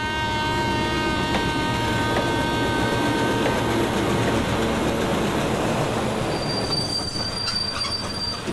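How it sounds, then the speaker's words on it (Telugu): A train pulls out with wheels squealing against the rails, a steady loud rolling rumble throughout and a sharper metallic whine near the end, with no voices. "పదరా రైలు వెళ్ళిపోతుంది."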